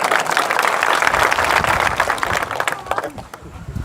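An audience at an outdoor political speech for farmers breaks into sustained applause, a dense wash of many hands clapping that thins out and fades toward the end.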